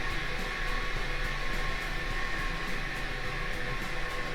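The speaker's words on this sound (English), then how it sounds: "Our agitator is operating" The agitator of a cook-chill kettle runs at 80% as a steady, dense whirring drone with a faint rhythmic pulse, constant in level from start to end.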